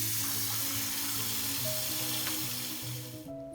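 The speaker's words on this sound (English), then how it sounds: "and let my sink fill up to about halfway full." A plugged kitchen sink fills with water from the tap, a steady, close rushing hiss with faint tonal hums underneath that thins out and drops away near the end, with no talking.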